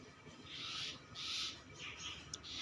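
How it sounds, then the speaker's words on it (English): A pet bird calls in the background with a run of repeated hoarse, breathy cries in a loose rhythm, fairly faint and indoors, with no one talking over it. "please ignore my bird's extra voice"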